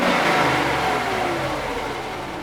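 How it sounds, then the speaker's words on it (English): A racecar built from a once-expensive car runs with its O2 sensors unplugged, its engine revving up loudly and then settling back down, droning steadily up close. "Car still runs on no O2s."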